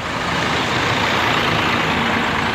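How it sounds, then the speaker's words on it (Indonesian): A Sinarjaya double-decker luxury bus on the Malang route idles at the Kampung Rambutan bus terminal, a loud, steady, broadband engine rumble with terminal noise and no pauses. "Ah, ini dari Sinarjaya lagi nih, yang ke Malang nih. Double decker, gokil."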